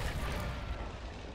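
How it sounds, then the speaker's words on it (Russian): Grenade blast in the WWII strategy game В тылу врага 2 (Battle of Kursk, Operation Citadel), a dense, loud rumbling boom with broad noise that stays heavy and sustained, slowly easing without fully dying away. "Еще кто-то бросил гранаты."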